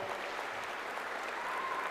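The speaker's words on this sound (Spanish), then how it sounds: "17 jóvenes, vamos a darles un aplauso" A crowd applauds seventeen young contestants at a national improvised-speech competition, a short burst of even, fairly soft clapping with no voices on top.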